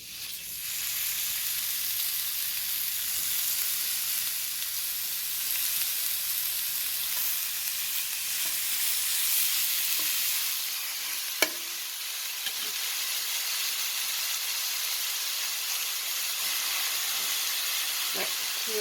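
Ground venison browning in a hot pan, a loud steady close sizzle and hiss that runs throughout, with a single sharp knock partway through.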